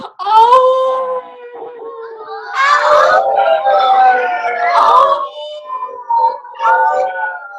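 A human voice imitates a dog howling, producing long wavering howls and whimpering wails that rise and fall across several drawn-out cries, loud and close.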